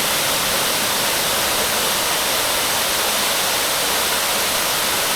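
The lower falls at Niagara Falls roar as a dense, steady, loud wall of rushing water, unbroken for the whole stretch with no voices.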